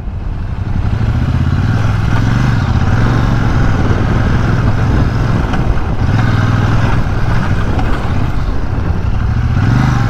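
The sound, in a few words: Royal Enfield Shotgun 650 motorcycle riding on rough road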